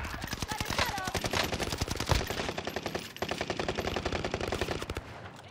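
Rapid automatic gunfire from a Warzone firefight, a dense stream of close, loud shots with brief pauses, continuing steadily throughout.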